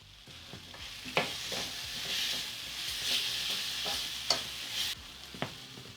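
Cilantro stems and curry leaves hit a simmering prawn masala sauce with a quiet steady sizzle, punctuated by sharp spoon scrapes and taps as it is stirred. No one speaks.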